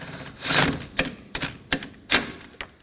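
Ratcheting clicks from tightening the 7mm active grille shutter bolt on a 2018-2024 Chevrolet Equinox 1.5L during radiator replacement: a burst of rapid clicks followed by several sharp, separate clicks, close up.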